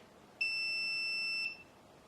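A single steady electronic beep, about one second long, sounds from a Circuit Specialists Premier 75W soldering station with a possible soldering iron fault, clear and alone against quiet room noise.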